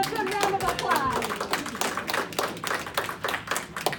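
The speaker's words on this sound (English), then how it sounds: "let's give them a good round of applause" An audience at a funeral preparedness presentation gives a round of applause, a dense clatter of many hands clapping close by, fading slightly toward the end.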